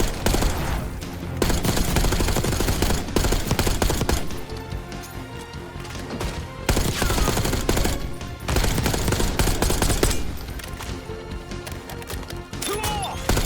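Machine gun cover fire in Call of Duty Black Ops 6 on a bridge, long loud sustained automatic bursts broken by brief pauses, with impacts and crashes mixed in and no talking.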